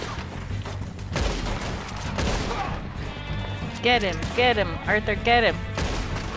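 Gunfire in Red Dead Redemption 2 during a chase through trees, with sharp shots that grow louder and denser toward the end, mixed with game voices and a player talking over them.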